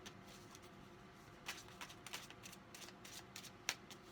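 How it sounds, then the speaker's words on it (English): Soft, quick riffling and flicking of tarot cards being shuffled, faint and close, with small irregular taps and no talking. "I'm even shuffling faster than usual."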